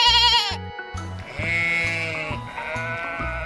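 A sheep bleats clearly over a light, repeating background melody, with several wavering calls spread across a few seconds at close range.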